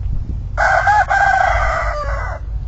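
A rooster crows once, loud and close: one long, drawn-out call over steady outdoor background noise.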